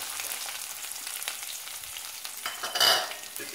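Onions sauté in a pan with urad dal, curry leaves and coriander for an elephant foot yam and garlic curry. A steady sizzle runs throughout with scraping stir strokes, swelling into a louder burst near the end.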